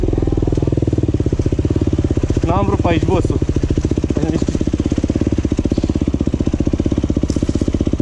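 A new KTM enduro motorcycle idles close by with a rapid, even, throbbing engine pulse that runs throughout, while someone speaks briefly over it.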